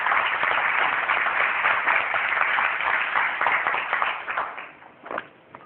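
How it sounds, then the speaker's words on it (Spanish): An audience applauds steadily, a dense wash of clapping that holds evenly for several seconds, then thins and fades near the end. "Para él, un aplauso"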